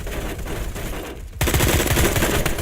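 Rapid automatic AK-47 fire from the Phantom Forces shooter game, a dense rattling burst that drops out briefly near the middle and then resumes louder and closer with sharp repeated reports.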